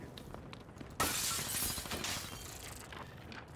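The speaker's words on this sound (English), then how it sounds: "I heard a window break." A window shatters in Call of Duty: Black Ops 3 online play, a sudden loud burst of breaking glass that cuts through quieter game ambience and then trails off into scattered debris and background noise.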